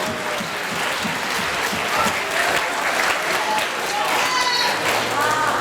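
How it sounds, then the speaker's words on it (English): Hearty audience applause rolls through a hall at a middle school band spring concert, a steady wash of many clapping hands with faint voices and murmurs mixed in. "Let's give WeSee and all the WeSee owners a huge round of applause."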